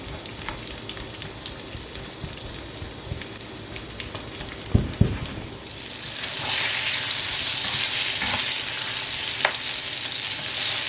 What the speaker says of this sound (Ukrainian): Обсмажимо баклажани.